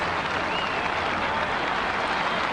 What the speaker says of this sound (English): Darren Maroon, getting a generous round of applause